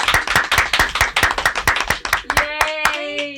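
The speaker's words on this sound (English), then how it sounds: "Please give a round of applause for Karen Tanski!" Audience clapping for a guest on an interview show, a steady burst of many hands close by, ending as a voice and a bright sung or spoken tone rise over it.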